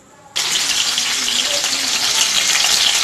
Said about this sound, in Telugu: ఈ పచ్చిమిర్చి ముక్కలు హీట్ అవుతున్న ఆయిల్లో వేద్దాం